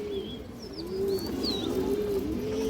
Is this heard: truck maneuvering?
no